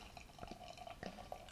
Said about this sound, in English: just going to pour this into this snifter